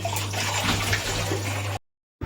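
Water runs steadily from a tap into a container at close range, a broad continuous splashing that fills the clip before cutting off abruptly near the end.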